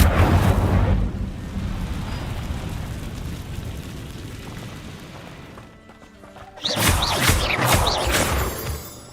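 Fire spell blasts from Hogwarts Legacy, Incendio cast in a wizarding game: a loud rumbling roar swells at the start and fades into a long hiss, then a second crackling burst flares near the end, with no talk.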